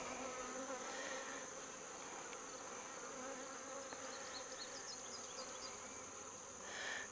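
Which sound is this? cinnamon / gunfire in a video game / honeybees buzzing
honeybees buzzing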